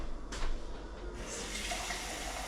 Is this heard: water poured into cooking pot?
yes